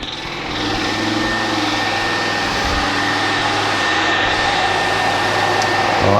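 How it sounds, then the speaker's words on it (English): Electric fuel pump running in a Classic Mini with the bonnet off, a steady, even mechanical whir and hum that starts up and holds continuously at close range. "fuel pump on"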